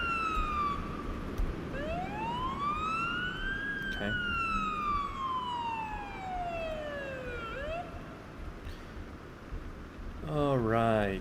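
Ambulance siren in a paramedic simulator game sweeps in long rising and falling wails at close range over engine rumble, ending in a rapid yelp warble; a voice speaks briefly.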